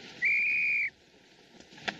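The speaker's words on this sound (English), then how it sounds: "that whistle means you" A single sharp whistle blast, loud and sustained for over half a second, in a film scene, followed by a faint quieter background and a soft click.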